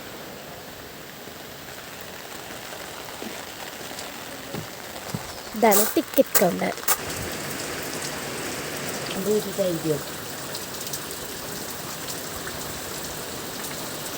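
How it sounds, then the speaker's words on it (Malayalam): Heavy rain pouring steadily at a fish attraction, a dense even hiss of drops on surfaces throughout, with a short spoken phrase and a few brief clattering knocks partway through. "നല്ലോണം മഴ പെയ്യുന്നുണ്ട്."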